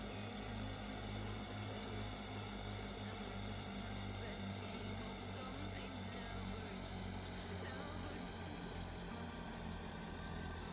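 Airplane engine spooling up for takeoff in a flight simulator video game, a steady droning hum with faint repeating tonal pulses, fairly quiet and continuous throughout.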